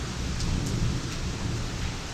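Heavy rain pours steadily with a deep rumble of thunder rolling underneath, dense and continuous throughout.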